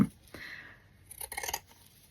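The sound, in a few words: scissors cutting paper from old book pages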